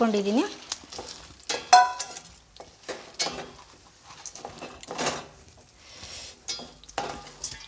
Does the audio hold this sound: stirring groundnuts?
yes